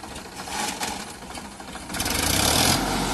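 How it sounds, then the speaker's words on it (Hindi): Sonalika 60 RX tractor engine running at idle just after starting, a steady close mechanical rumble with knocking pulses that swells louder near the end, with no talk over it. "और दोस्तों आप लोग देख रहे हैं ट्रैक्टर स्टार्ट हो चुका है,"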